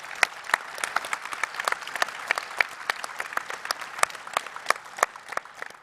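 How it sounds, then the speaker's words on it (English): A small conference audience claps after a live demo of a 3D multiplayer web game, giving sparse, uneven individual claps with sharp separate hits for several seconds and no talking. "So no pressure, but please an applause"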